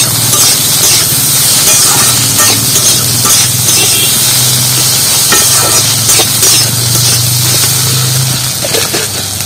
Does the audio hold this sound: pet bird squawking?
no